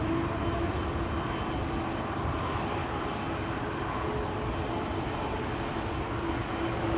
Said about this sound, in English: that howling, that whale sound is absolutely louder than older airplane types were